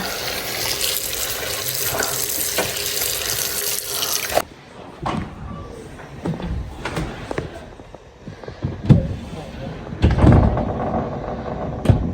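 Silicone covers washed under a running kitchen sink tap, steady water rush for the first four seconds, then quieter splashes, clinks and handling sounds, with the water surging again near the end.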